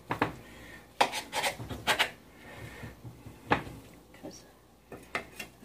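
Metal utensils scrape and clink against a pan as a fork cuts a chicken pot pie, several sharp bursts with quieter rubbing in between, close up and without talking.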